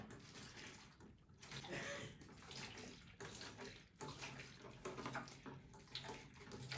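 Water gurgles and splashes steadily as a siphon pump pushes it through a hose into the tank of an XTERRA ERG600W rowing machine, close and continuous with brief sputters.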